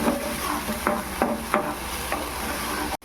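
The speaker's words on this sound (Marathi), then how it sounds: "आता अद्रक लसूण कांदा आणि टोमॅटो तेल पेस्ट जरा आपल्याला शिजून द्यायचे" Ginger, garlic, onion and tomato paste cooking in oil for matar paneer, a steady soft sizzle with a few sharp stirring scrapes at irregular intervals, close and moderately loud, no voices.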